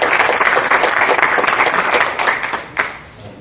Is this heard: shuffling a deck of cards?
no